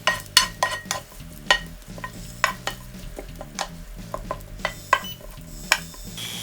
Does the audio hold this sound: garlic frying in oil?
yes